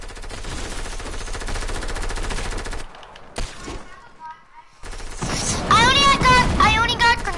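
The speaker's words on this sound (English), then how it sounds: "Somebody just shot me." Rapid automatic gunfire in a multiplayer shooter video game, dense bursts at the start, a brief quieter gap, then more firing mixed with game sounds and a voice.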